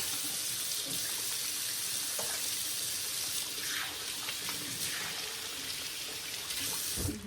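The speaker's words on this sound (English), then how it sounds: "I'm going to rinse my hands off because I handled that raw burger." Kitchen tap runs in a steady, continuous stream as hands are rinsed under it after handling raw burger, a close, even splashing hiss with a brief louder gush near the end.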